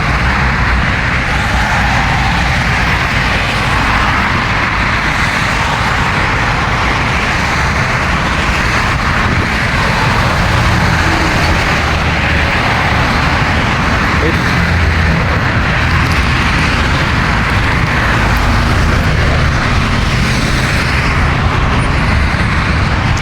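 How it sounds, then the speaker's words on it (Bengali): Steady roadway traffic in Saudi Arabia, with cars and heavier vehicles passing along both sides of a road lined with kans grass, forming a loud, continuous wash of engine and tyre noise with no clear gaps. "গাড়ির দুই পাশ দিয়ে গাড়ি অনেক আসা যাওয়া করতেছে যার কারণে গাড়ির সাউন্ডটা বেশি অতিরিক্ত"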